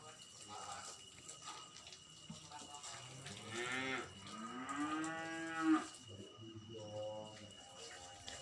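Cattle low and moo inside a barn, one long drawn-out call rising and falling across several seconds, with shorter moos around it and water running softly in the background.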